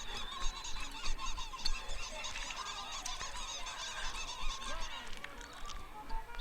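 Busy, chattering bird calls from the Pixar animated short For the Birds, a steady flock of honking, squawking small birds heard fairly faint and constant throughout, with no speech over them.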